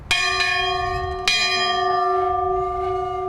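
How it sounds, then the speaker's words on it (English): A harvest bell at L'Ecole No. 41 Winery is struck twice, each ring loud and metallic with a long, sustained ringing tail that fades slowly. "we ring the bell to alert everybody that harvest has begun"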